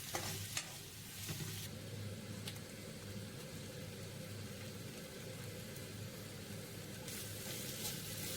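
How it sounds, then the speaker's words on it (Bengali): Chopped onions sizzle steadily in a hot pan for a potato paratha filling, with a few scrapes and clicks of a spoon stirring through them near the start and toward the end, continuous and close with no voices. "এবং একটু নাড়াচাড়া করে নিচ্ছি।"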